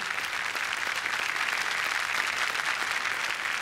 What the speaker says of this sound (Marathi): जोरदार टाळ्या मंदार आपटे यांच्यासाठी